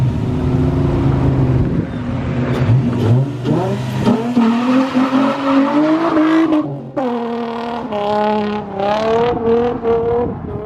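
Handbrake drift in a 2003 Infiniti G35 with a welded differential: the engine revs up and down loudly while the tires squeal continuously through the slide, close and without talk.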